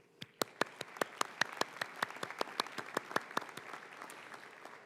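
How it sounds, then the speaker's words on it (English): Scattered, fairly sparse clapping from an audience at a dental medicine graduation ceremony, individual claps standing out in a steady rhythm over about five seconds at moderate distance. "So a round of applause for you."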